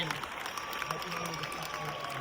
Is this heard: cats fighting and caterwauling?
no